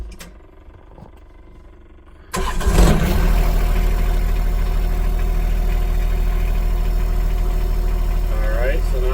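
A John Deere 1025R compact tractor with a cab cranks and fires up, then settles into a steady, close, droning idle.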